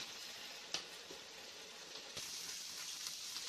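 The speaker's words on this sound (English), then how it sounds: "I'm going to continue frying this meat up" Faint, steady sizzling of ground meat frying in a pan for sloppy joes, with a couple of brief clicks or pops, no voices.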